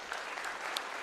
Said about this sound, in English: Clap it up for the athletes and the spectators.